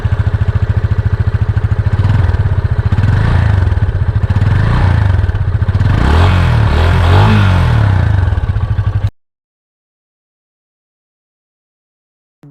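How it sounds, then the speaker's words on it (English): A Yamaha FZ 250 BS6 motorcycle's exhaust revs repeatedly, loud and close, a deep bassy throb rising and falling for about nine seconds before cutting off abruptly into silence. "now let's listen to the exhaust note of this bike"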